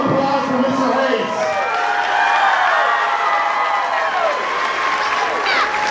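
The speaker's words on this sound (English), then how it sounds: "Let's give a round of applause for Mr. Hayes." A studio audience applauds and cheers for a guest, Mr. Hayes, a broad steady wash of clapping and crowd noise filling the room for several seconds.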